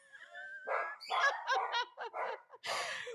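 A dog barks in a rapid, excited run of yips and barks, fairly close, with a whine at the start.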